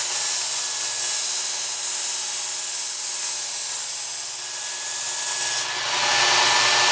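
A knife edge ground freehand on a Work Sharp Ken Onion belt sharpener gives a steady, bright abrasive hiss with a faint motor whine beneath, running continuously before changing briefly near the end.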